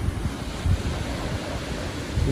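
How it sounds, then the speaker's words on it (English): Ocean waves break on a beach with a constant rushing surf, low rumbling swells and gusts of wind buffeting the microphone, loud and close with no voices. "Can you hear the waves?"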